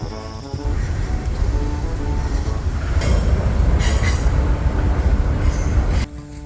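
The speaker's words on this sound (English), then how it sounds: "Train a-coming." A train rolls past on a rainy trail, a steady loud rumble of wagons and wheels with squealing and clatter, swelling midway and then cutting off abruptly near the end.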